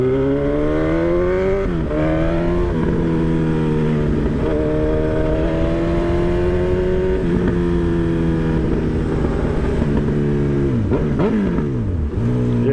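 A Honda CB1000R Hornet naked motorcycle ridden through city streets, its engine droning loud and steady with repeated rises and falls in revs as the rider shifts and accelerates, no voices.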